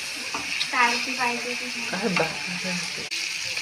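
Fish frying in a pan with onions and spices, a steady sizzle running throughout with light scraping as the pieces are turned; faint speech-like sounds rise briefly over the frying.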